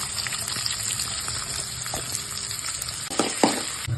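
Mustard seeds, cumin and onions sizzle and crackle in hot oil for a tempering, a steady frying hiss with scattered pops and a few louder spatters toward the end.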